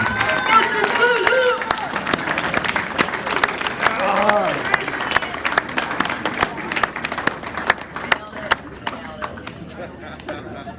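Wedding guests applaud the best man in a dense, sustained round of clapping that thins toward the end, with scattered voices and brief cheers mixed through the crowd noise.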